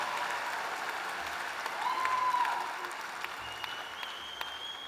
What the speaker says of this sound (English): One more round of applause for the 2024 graduates of the Master of Science in Management program.